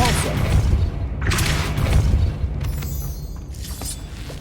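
The Depulso spell fires in Hogwarts Legacy on PC, a loud, close, rumbling magical blast with deep booms and whooshing swells that fade out over a few seconds.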